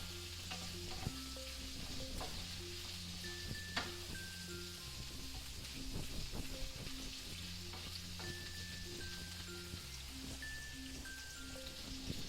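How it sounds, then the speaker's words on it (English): King prawns stir-frying with garlic in a pan give a steady close sizzle and crackle with occasional stirring clinks, under light background music. "You can see the prawns are cooking very nicely with the garlic."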